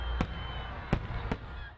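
Three fireworks pop at a distance, sharp isolated bursts separated by quiet gaps over a faint background hum, heard from the grounds of Albuquerque's zoo.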